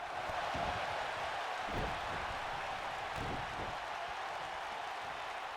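Arena crowd at a wrestling tag team tournament match cheering and wooing, a steady broadband roar that stays loud and continuous throughout with no speech over it.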